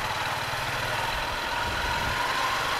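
A motorcycle engine idles close by in Pier Manila, a steady low rumbling drone with a continuous even texture and no talking.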